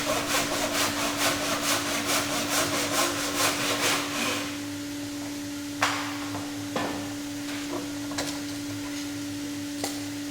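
A skirting board clamped in a workbench is hand sawn at a 45-degree angle, with a rapid, rhythmic back-and-forth rasp of close strokes that stops partway, followed by a steady hum and a few scattered knocks.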